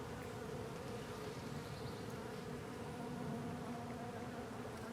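Honeybees hum steadily around an open hive headed by a hybrid Italian queen, a dense continuous buzz of many insects close by with no voices.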